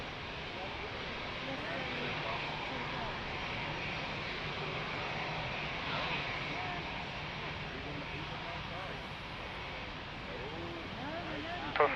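Airliner engine noise at Lisbon Airport on runway 02, a steady broad roar holding through the whole stretch at moderate distance, with radio voices from the tower talking over it.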